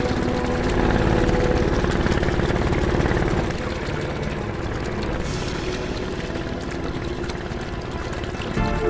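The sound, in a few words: boat engine as the boat pulls in to shore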